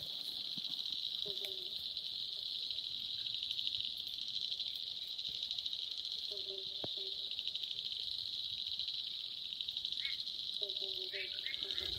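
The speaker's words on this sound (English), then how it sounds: "the crickets are all chirping, and frogs are croaking" Steady, high cricket chirring fills the night air, with a few brief croaking calls rising now and then and a short spoken phrase.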